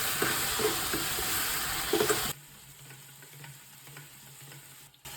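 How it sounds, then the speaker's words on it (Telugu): Tomatoes stir-fried with chili powder and curry leaves give a loud sizzle with stirring for about two seconds, then settle to a quiet, low simmer with faint scraping. "ఇప్పుడు కరివేపాకు వేసుకొని బాగా వేసుకోండి."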